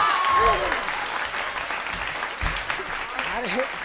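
A group clapping and applauding in a steady patter of many hands, moderately close, under a child chanting a rhyme.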